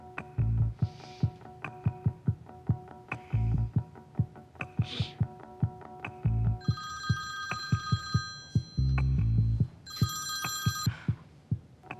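A telephone bell rings in loud repeating bursts, with a regular pattern of sharp ticks and low thuds, and brighter high electronic ringing segments toward the end; no speech is heard.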